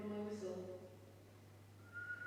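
A person whistles a few short tonal notes in a prison interior at night, quiet and brief, followed by a faint hum and a single higher whistled tone near the end.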